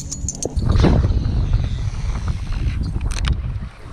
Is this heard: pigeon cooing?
no